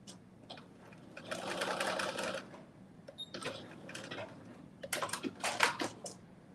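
A home sewing machine stitches a garment seam in quick rattling bursts, near and fairly quiet, pausing between runs with small clicks and handling sounds between stitching passes.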